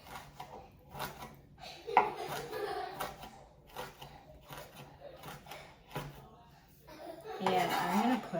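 A knife chops onion and cilantro on a board in a home kitchen, giving sparse, quiet taps under a talking voice, while children's voices and laughter rise in the background toward the end.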